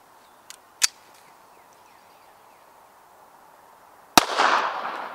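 Gunshots from a Walther PPK .380 pistol loaded with Critical Defense ammunition: a faint pop, then a sharper crack near one second, and a loud shot around four seconds with a lingering echo, heard outdoors.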